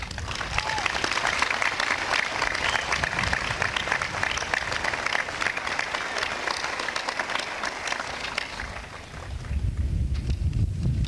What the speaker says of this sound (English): Ladies and gentlemen, these are the 1994 graduates of Bellefontaine High School. They deserve your applause.